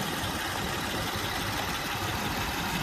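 A Honda Pilot engine idles close by, a loud, even, continuous rumble and hum with no change in pitch and no voices.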